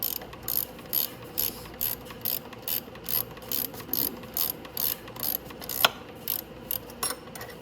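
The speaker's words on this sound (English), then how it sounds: "So this time I'm going to turn the bolt instead of the nut." A ratchet turns a bolt on the front shock of a Venom E-Madix 1300w electric ATV, clicking in a quick, even run of bursts.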